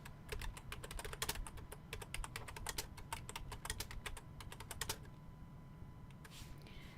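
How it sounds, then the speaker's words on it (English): Someone types a search on a computer keyboard, a fast, close run of light key clicks that continues steadily for about five seconds before it stops, leaving a faint hum. "Let me see if I can type it in."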